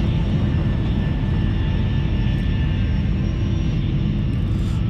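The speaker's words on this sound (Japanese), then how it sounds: "今まさに飛行機が離陸しようとしてますね" A passenger airliner takes off from a small passenger airport in the Cities: Skylines video game, a loud, steady jet engine roar with a deep rumble that holds at constant strength throughout.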